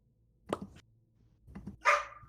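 A dog barks in short bursts, a few muffled low woofs followed by one louder sharper bark, with no talking.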